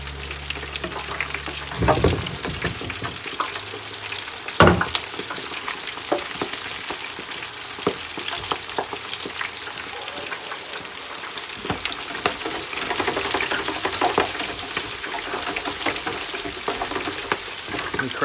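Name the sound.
food deep frying in hot oil in a fryer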